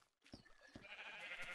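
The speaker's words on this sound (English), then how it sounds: "Yeah, we have a bunch of sheep now." Minecraft sheep bleating, a brief cluster of faint nasal bleats overlapping one another on a sheep farm, with no talk.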